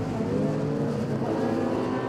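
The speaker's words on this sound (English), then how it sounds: "great noise that Clio V6 makes" A Clio V6 rallycross car's engine races at Lydden Hill, a loud, steady, rasping engine note held close throughout the short burst with no talk.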